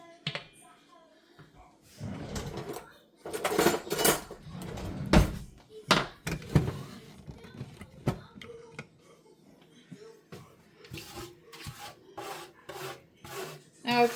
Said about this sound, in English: Scrape out all this sugar that's gotten to the bottom.